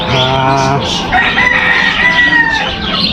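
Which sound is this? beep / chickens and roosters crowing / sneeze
chickens and roosters crowing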